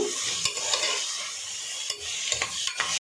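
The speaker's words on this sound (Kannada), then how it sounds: "ಇದನ್ನು ಸ್ವಲ್ಪ ಹೊತ್ತು ಫ್ರೈ ಮಾಡ್ಕೋಬೇಕು." Tomatoes sizzle steadily in a hot pan while a spoon scrapes and stirs them in several sharp strokes, close up, no voices.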